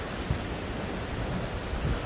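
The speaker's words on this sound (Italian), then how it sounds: "Sono circondato dalla tempesta di vento." A strong windstorm sweeps a sheltered gulf on the Italian coast during a fishing outing, giving a steady roar of wind and surf with gusty buffeting against the microphone and low thumps throughout, with no voices.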